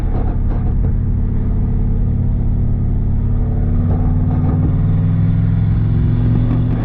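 A turbocharged Chevrolet Silverado pickup truck driving, heard from inside as a loud, constant low engine drone and road rumble, the pitch climbing slightly as it pulls, with no speech over it.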